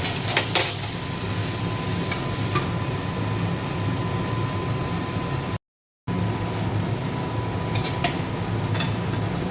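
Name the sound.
potatoes frying and being stirred in a pan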